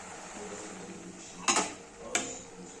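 Bottle gourd curry with salt and chilli is stirred in a pot, giving two sharp metallic clinks of the spoon against the pot about half a second apart over quiet background.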